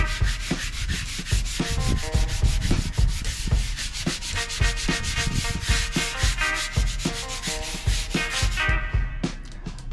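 Paint overspray is scrubbed off with lacquer thinner, producing rapid, continuous rubbing strokes that stay close and fairly loud throughout, with no voices.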